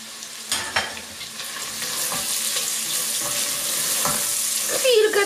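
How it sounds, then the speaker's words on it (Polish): Bacon frying in a pan, stirred with added carrot and garlic, sizzles steadily up close, with scraping stir strokes and clinks scattered throughout and the hiss slowly growing louder. "gdy boczek już mi się fajnie przypiekł, dodaję marchewkę i nasz czosnek."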